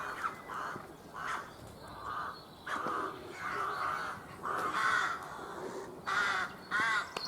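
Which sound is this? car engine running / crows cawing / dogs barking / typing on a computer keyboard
crows cawing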